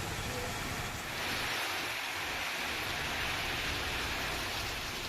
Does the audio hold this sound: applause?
no